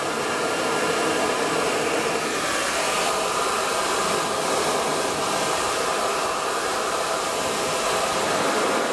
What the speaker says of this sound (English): Supposedly a 550 CFM blower. It's just stupid quiet.